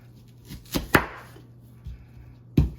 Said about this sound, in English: let's chop our onion